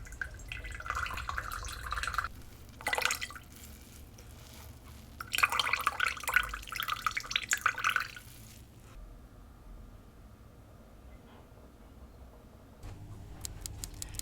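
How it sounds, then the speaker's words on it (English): Liquid dripping and trickling from squeezed Cornish gorse flowers during dye-making, close and soft, in two spells of patter separated by quieter pauses. "I'm going to give the flowers an extra squeeze"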